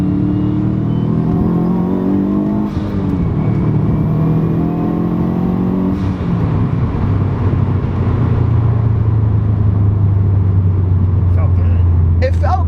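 A tuned Subaru WRX engine pulls through the gears while driving, climbing in pitch twice with a brief dip at a shift, then holding a loud, steady drone with road noise up close.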